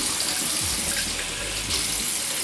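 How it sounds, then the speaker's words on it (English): Water runs and pours onto a neoprene universal car seat cover, a loud, close, continuous splashing stream that cuts off abruptly at the end. "So we're turning the water to test it out."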